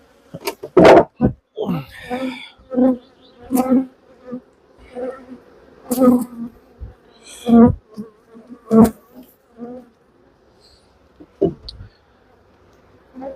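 Honeybees buzz around an open hive during colony work, with a steady hum broken by loud close passes and sharp bumps and knocks of hive equipment, and no talking.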